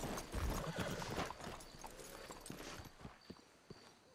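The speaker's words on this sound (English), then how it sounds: "Let's hitch your horses up ahead." Horse hooves clip-clop in the Red Dead Redemption 2 video game, a brief rhythmic run of hoofbeats under ambient game noise, fading slightly toward the end with a short whinny-like touch possible.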